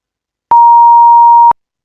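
Synthesized pure sine tone at 900 Hz from a C# audio synthesizer, a single steady beep lasting about one second, loud and clean, starting and stopping abruptly with a faint click at each edge.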